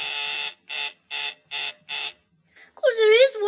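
Five evenly spaced electric buzzer blasts, loud and harsh, each about half a second long, followed by a pause and then a voice speaking.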